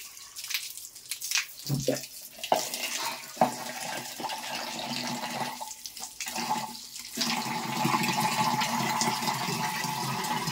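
Tap water runs steadily as a child washes, splashing and broken at first and then a fuller continuous flow, heard close by with no talking.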